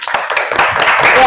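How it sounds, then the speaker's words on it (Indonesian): Classmates in a classroom clap for a student, a short burst of scattered handclaps starting near and continuing steadily, with voices mixed in. "Tepuk tangan dulu dong teman-temannya."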